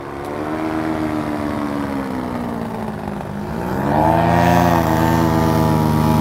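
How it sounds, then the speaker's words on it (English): An airboat, or swamp copter, passing close by with a loud, steady propeller-engine drone that swells and shifts pitch as it goes past, heard alone with no talk. "That's the swamp copter."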